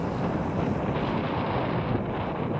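Steady, loud wind buffets the microphone on a fishing boat at sea while fishing for false trevally. The rush is broad and continuous, with no voices.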